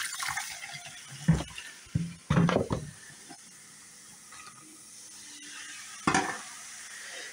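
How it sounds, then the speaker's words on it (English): Vinegar poured onto baking soda in a slow-running drain, with faint fizzing and bubbling punctuated by a few louder splashing pours and gurgles, quiet and close with no talking. "when we add the vinegar, it will start foaming"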